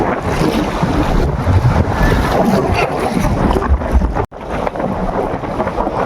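Strong wind roars steadily across the microphone at sea beside a boat off Bulacay Beach, with waves washing constantly beneath; a loud, continuous rush with a brief dropout near the end.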